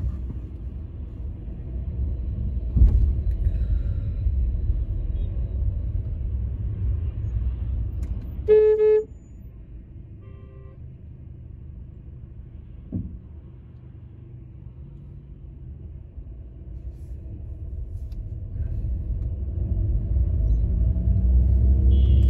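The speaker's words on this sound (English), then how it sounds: "but the traffic is quite heavy" Heavy traffic rumbles along a main road in an industrial zone in China, with a sharp car horn toot in the middle, a few fainter horn blips later, and the engine roar swelling again toward the end.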